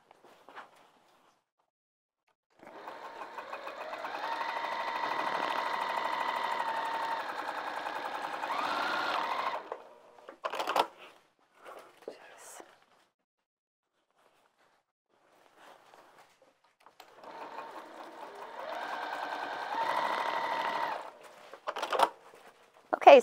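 A sewing machine stitches a fabric bag in two quiet, even bursts separated by a long pause, with light handling clicks and rustles between runs.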